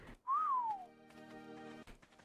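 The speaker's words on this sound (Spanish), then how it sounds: "¡Deja de silbar!" Whistling in the video game Arkadia: a clear rising then falling whistled tone, loud and close, fading into a low steady hum of background game sound.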